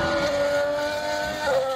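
Formula 1 cars with turbocharged 1.6-litre V6 hybrid engines scream through a corner sector with a sustained high-pitched whine, pitch dipping and shifting near the end, loud and close with no talk.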